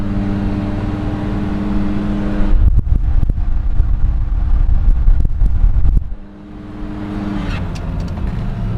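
A classic Buick cruises along Route 66, its engine and road rumble steady and close, with wind buffeting rising through the middle stretch before settling back to a smoother hum.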